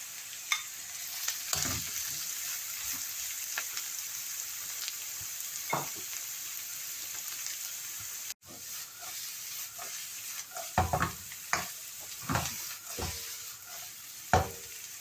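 Capsicum and mixed vegetables stir-frying in a pan for chicken chow mein, a constant hissing sizzle with periodic spatula scrapes and clanks, loud and close throughout with a brief break in the middle.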